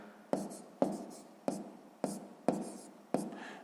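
A math answer being written by hand: six crisp, evenly spaced pen strokes tapping and scratching on paper, close and alone.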